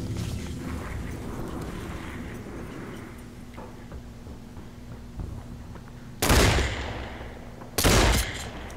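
Gunfire in the VR shooter Population One: a continuous rattle of distant shots, then two loud, close bursts near the end.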